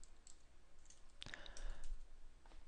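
A few faint, light clicks of typing on a computer keyboard sound in a quiet room, grouped in a short burst near the middle.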